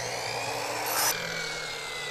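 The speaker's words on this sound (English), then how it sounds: "We're cutting 45s on the glass stop." A power saw cuts a 45-degree angle on wooden glass stop for a custom bifold door, giving a brief whining bite amid a steady workshop drone, with no talking.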